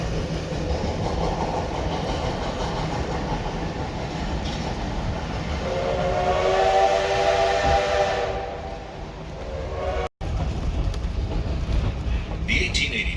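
The steam whistle of the 1880 Train steam locomotive sounds mid-clip as a long, moderately distant blast over rumbling rail noise and hiss, then cuts off abruptly.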